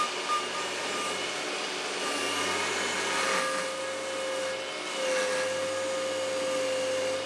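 Power saw ripping thin strips of ash and walnut, a steady loud whining roar with faint tonal hums running for several seconds and no speech.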